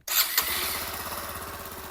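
A Bajaj CT 110X motorcycle engine cranks on the self-starter with a short burst, then catches and settles into a steady, close, even idle with a regular low chug.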